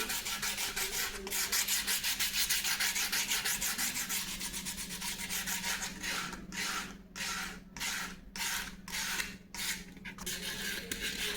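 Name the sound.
sanding the surface of a balsa wood model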